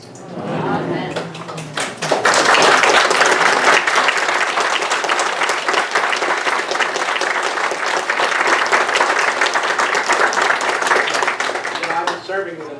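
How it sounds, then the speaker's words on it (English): A church congregation bursts into sustained applause, loud and dense with many hands clapping together for about ten seconds, beginning after a brief stretch of voices and tapering slightly near the end. "It's the first time I've had a clap in a long time."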